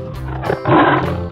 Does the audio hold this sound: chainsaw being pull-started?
no